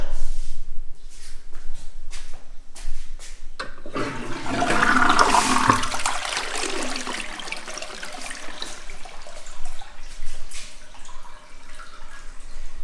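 Toilet with an electronic bidet seat flushing in a newly built house in the Philippines: a loud rushing swirl of water that surges and drains off into trickling refill, preceded by a few clunks.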